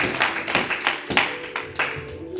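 Congregation clapping hands at a church service, a steady rhythmic beat of claps about every half second, close and fairly loud with no talk over it.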